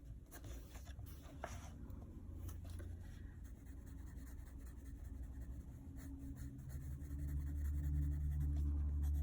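Green Inktense pencil colouring on paper, shading a tassel on curtain ties: a soft, steady scratchy rubbing that carries on throughout at close range, with no talking.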